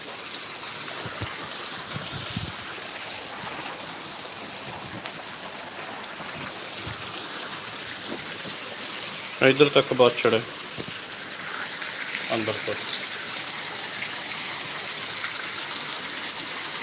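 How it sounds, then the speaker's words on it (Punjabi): Heavy rain pours steadily as a broad, constant close hiss, with someone talking over it and a brief louder burst midway. "ਮੀਂਹ ਜਿਹੜਾ ਪੂਰਾ ਤੇਜ਼ ਹੈ 45 ਚੱਲ ਪਏ ਨੇ ਪਿਛਲੇ 10 ਮਿੰਟਾਂ ਤੋਂ ਮੀਂਹ ਜਿਹੜਾ ਪੈ ਰਿਹਾ"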